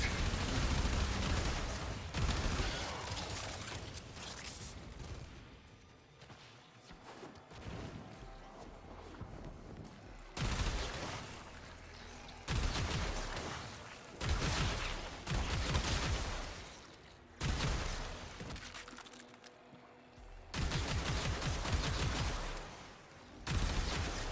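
Bursts of rapid gunfire from the shooter Warframe, fired at an infested hive: loud, dense volleys arriving in repeated blocks separated by brief quieter gaps, with a muffled voice sometimes underneath.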